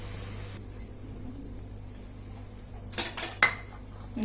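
A utensil scrapes and clinks against a pan while flour is mixed in it, with a few clear metallic knocks near the end over a quiet background hum.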